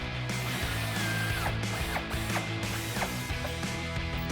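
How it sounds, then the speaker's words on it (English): A hand ratchet with a 15mm socket loosens bumper bolts on a 2007-2013 Silverado 1500, with a quick series of close, crisp clicking pawl strokes at a steady rhythm. "We're going to use a 15mm socket and you may want a small extension as well as a ratchet to get this out."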